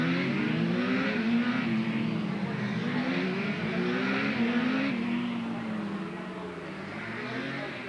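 Production racing motorcycles roar around the Hamilton Lake circuit at a 1985 senior production race, a continuous loud engine drone with rising and falling pitch as bikes pass, steady throughout.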